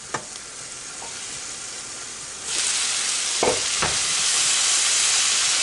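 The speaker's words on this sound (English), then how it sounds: "And cabbage is in here. I'm going to give that a stir." Cabbage sautés in a hot pan with a steady sizzle that swells louder partway through. A few sharp utensil clinks against the pan mark the stirring. No one speaks.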